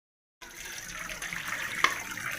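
Water being drained off soaked rice flour while preparing puttu, a steady close splashing and running flow that begins abruptly after a silent start, with one sharp clink near the end.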